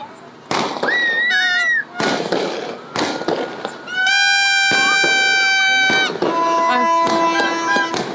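Fireworks, firecrackers and gunfire bang repeatedly at midnight amid loud horn-like toots and tonal whistles, a noisy, close celebration with overlapping blasts.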